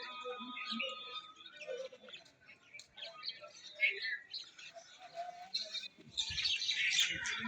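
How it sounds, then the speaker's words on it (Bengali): Myna birds chirp in the morning, a flock gathering on overhead power lines: overlapping, fairly quiet chatter and tweets continue without pause, growing busier toward the end. "ও পাখির কিচির মিচির অসাধারণ লাগছে ভাই"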